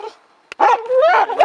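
A dog barks and yelps close by in a tense outdoor confrontation during a protest, two loud bursts after a sharp snap, with a person's voice briefly audible.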